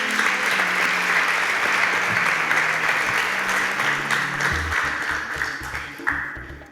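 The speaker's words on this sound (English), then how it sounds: "A round of applause for Mohammed because this is where his SPAK journey ends." Steady audience applause on a Nigerian televised competition show as a contestant leaves the stage, dense sustained clapping with music underneath and a louder thump near the end.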